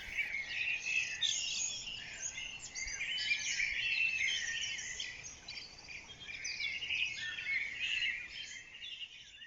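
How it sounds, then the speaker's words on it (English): Blackbirds singing outdoors in a dense, continuous chorus of bright, warbling phrases that overlap and rise and fall in loudness, with nothing else audible. "There's definitely blackbirds in there"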